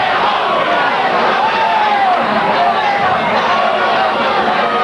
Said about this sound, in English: these fans are absolutely going wild